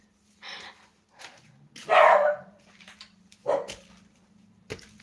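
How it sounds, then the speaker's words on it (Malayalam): A dog barks several times in separate loud bursts, one long and strong bark in the middle followed by shorter ones, close by over a low steady hum. "പട്ടി കുരക്കുന്നു"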